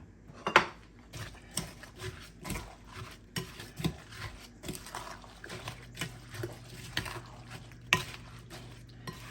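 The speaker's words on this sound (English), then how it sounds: "Get all of that stirred up in there." A spoon stirring apple cake batter in a mixing bowl, giving repeated soft scraping and sloshing strokes at close range, with no talking.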